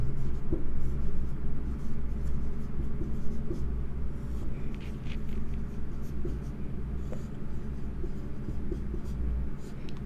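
Pen or chalk writing words on paper or a board during a lesson, a steady faint scratching of strokes over a low room hum, with no voices.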